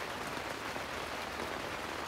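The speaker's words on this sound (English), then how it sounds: "it's pouring rain" Heavy pouring rain drums steadily on a campsite tent in Crested Butte, a dense, constant hiss filling the whole clip at close range with no pauses and no voices.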